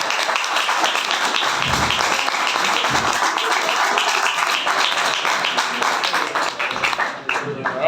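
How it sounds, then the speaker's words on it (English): Sustained applause from a sizable open mic comedy audience, dense clapping holding steady for several seconds before starting to thin out at the end. "I'm going to end the show with the applause because that makes me look good."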